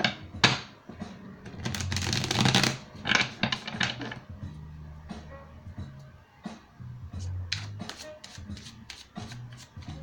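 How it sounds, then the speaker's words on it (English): A deck of tarot cards is shuffled by hand indoors, with quiet bursts of riffling and soft handling clatter, then lighter taps and knocks. "Shuffle up these cards a little bit."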